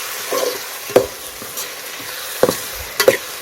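Onion and tomato fry in a pan over a wood-fired village stove, a steady soft sizzle broken by a few sharp stirring clicks and scrapes.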